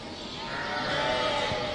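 Sheep and lambs bleat on an Assaf sheep farm in Konya, a dense overlapping chorus of bleating from many animals at once, steady and fairly loud throughout.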